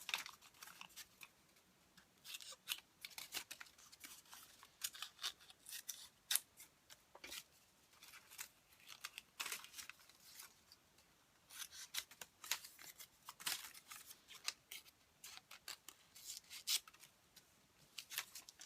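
Scissors snip through paper while cutting pieces for a paper lace flower, a steady run of quiet, crisp clicks and crunches repeating closely over the whole stretch, with no talking.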